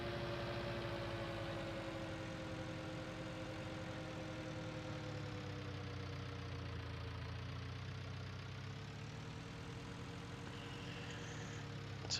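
A tractor engine idles in a farming simulation game, a steady low rumble with a faint tonal hum that stays even and fairly quiet throughout.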